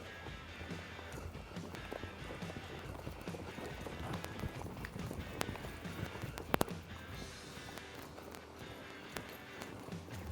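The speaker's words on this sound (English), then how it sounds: "So we'll just lope her around the pen and kind of see how she acts here." A horse loping around a small schooling pen, its hoofbeats sounding faint and somewhat distant as a soft, rhythmic thudding against steady background noise, with a few sharp clicks partway through.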